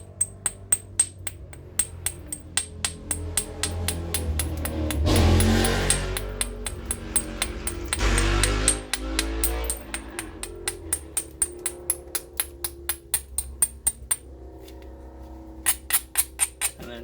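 Sharp, evenly spaced taps and clicks from knapping the bottom of a glass bottle into a point, struck near and alone in steady rhythm, with a stretch of rougher scraping and grinding midway.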